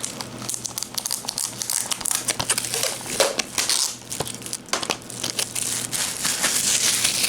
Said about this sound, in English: crumple it up into a big little ball and no sticking